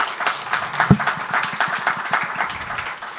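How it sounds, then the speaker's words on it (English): An audience at a regional session on the Western Balkans and Ukraine applauds the final speaker, a fairly close, moderate round of many hands clapping steadily throughout. "Please applause to our last speaker."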